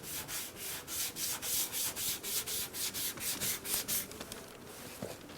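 A sanding block rubs back and forth over guide coat on a dented car body panel, a close, steady rhythm of quick raspy strokes that slows and trails off toward the end, with no talking.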